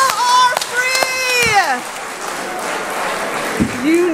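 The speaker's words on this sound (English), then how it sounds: "Clap your hands this last time." An audience at a Juneteenth and environmental justice gathering claps hands in a loud, sustained round of applause, with a voice calling out over the start and cheering mixed in.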